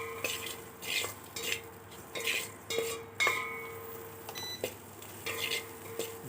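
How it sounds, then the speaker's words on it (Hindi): A spoon stirs chopped garlic with lauki and peas in a pan, scraping and clinking against the metal in irregular strokes, close by, over a soft background sizzle. "चम्मच चलाते रहिए जब तक भूरा ना हो जाए।"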